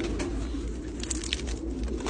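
Domestic racing pigeons of pedigree lines coo steadily in a loft, a continuous low murmuring bed of calls with occasional brighter flutters and chirps, close and fairly loud with no talk.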